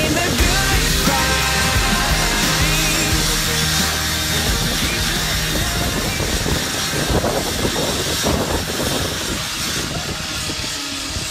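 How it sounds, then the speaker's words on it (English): A chainsaw cuts through wood in a fire academy training exercise, a loud continuous buzzing engine whine with rough grinding and shifting pitch as the blade bites, running throughout. "He's got the chainsaw in his hand, Joe."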